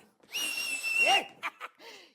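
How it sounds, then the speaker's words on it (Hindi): A person gives a long, shrill sustained whistle that slides down at the end, followed by a couple of short whistled chirps and a brief final whistle, loud and close with no talk over it. "सीटी का बजा रहे हो"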